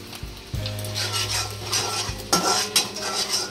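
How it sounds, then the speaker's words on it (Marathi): Chopped ginger hits a hot pan with garlic while cooking chicken Schezwan fried rice, giving a steady close sizzle with scraping and clinking of a spatula against the pan. "त्यानंतर हे अद्रक थोडं चिरून ठेवलं होतं ते टाकूया।"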